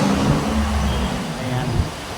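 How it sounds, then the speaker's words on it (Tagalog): Continuous road traffic rumble near Kadiwa Market in Dasmariñas city, a loud, steady wash of car and motor noise with a passing low engine swell. "Sa kabila ay ang traffic."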